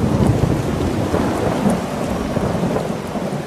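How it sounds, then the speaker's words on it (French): Heavy rain pours over the Amazon rainforest as thunder rumbles low and continuous, a dense, loud wash of sound with no voices. "des gouttelettes qui retombent avec la pluie sur la forêt amazonienne"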